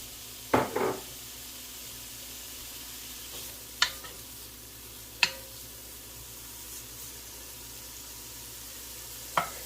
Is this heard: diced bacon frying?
yes